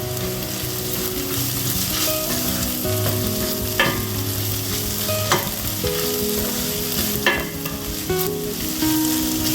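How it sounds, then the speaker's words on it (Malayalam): Onions and green chillies sautéing in a pan, a loud continuous sizzle broken by periodic scraping stirs of a spatula, with no speech. "ഇപ്പം നമ്മുടെ ഉള്ളിയെല്ലാം ഒരുവിധം വഴണ്ടി വന്നിട്ടുണ്ട്. ഈ സമയത്ത് നമുക്ക് നമ്മൾ എടുത്തു വെച്ചിരിക്കുന്ന പച്ചമുളക് ആഡ് ചെയ്യാം."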